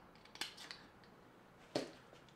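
Scissors snip fishing line after a polymer knot is tied on a catfish and striper rig, two sharp, quiet clicks spaced about a second apart in a hushed room.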